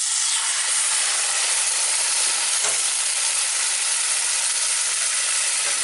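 Chicken sears in a hot skillet, a steady broadband sizzle running loud and unbroken throughout, with one faint soft knock near the middle and no voices.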